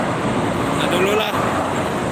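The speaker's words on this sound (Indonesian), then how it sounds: "Ini banyak kendaraan, oi." Dense traffic on the Cikampek toll road with many cars and buses, a continuous rolling roar of tires and engines passing close by, fairly loud and steady with no talk.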